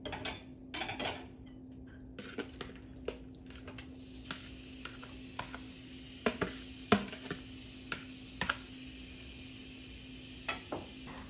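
Mushroom slices fry in olive oil in a pan on a stove set to medium-high heat, giving a faint, quiet sizzle. Soft sporadic crackles and pops break it up, with no one talking.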